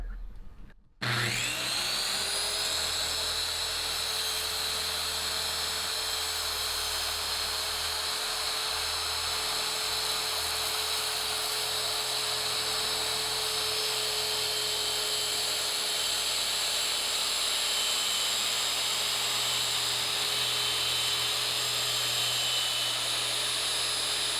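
A carbide-tipped saw blade grinds steadily through an aluminum bed frame, loud, continuous and high-pitched with a constant whine, starting after a brief moment of quiet.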